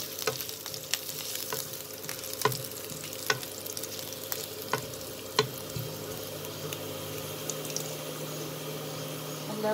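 Garlic sautéing in a pan for a chicken and baby corn stir fry, a steady moderate sizzle punctuated by sharp periodic clinks of a utensil stirring against the pan.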